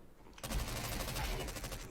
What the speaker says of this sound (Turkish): Buradan silah sesi geliyor.